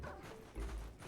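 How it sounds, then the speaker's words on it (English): A dog named Sadie being harassed by Darling, with a short, fairly faint bark or yip in a brief burst. "A dog."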